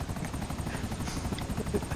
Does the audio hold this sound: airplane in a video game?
yes